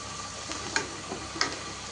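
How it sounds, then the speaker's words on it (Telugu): Homemade french fries fry in hot oil with a constant, even bubbling sizzle, broken by two faint utensil ticks; close and steady with no voices. "ఇట్లా కొన్ని వేసి ఇట్లా మంచిగా ఫ్రై చేసుకోండి ఆయిల్లో."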